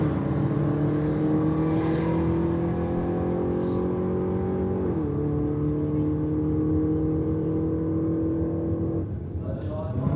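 A Holden sports wagon runs at a drag strip event at Sydney Dragway, its engine a sustained droning roar whose pitch dips once midway before holding steady, heard from a distance while people talk over it.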